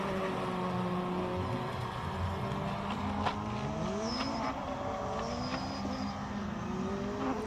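Ligier race car with a JS53 Evo 2 2-litre four-cylinder engine at a hillclimb, its engine note rising and falling through gear changes as it passes, loud and steady against a constant background roar.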